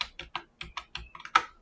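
Computer keyboard keys pressed during a laser-software tutorial: about a dozen quick, close clicks in an irregular rhythm, a few pausing briefly before a louder final press, with no talking.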